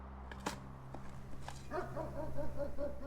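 Dogs bark in the video game Blue Prince, a short burst early on and then a steady run of repeated, rhythmic barks that grow louder toward the end, with no voices over them.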